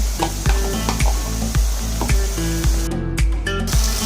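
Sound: ginger and garlic paste frying with onions in oil

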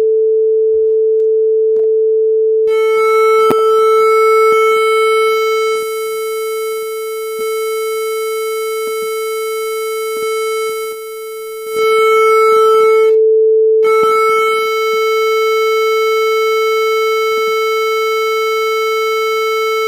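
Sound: sine wave distorted by Web Audio API waveshaper

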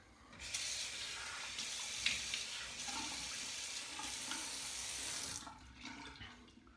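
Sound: rinsing a safety razor under running tap water

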